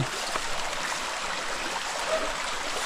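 Clean water running steadily from a pipe at a forest water source, a constant close splashing rush with no clear breaks and no voices.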